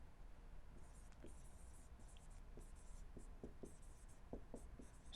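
A pen writes on a board in quiet, intermittent strokes and taps over a steady background hiss, faint and close.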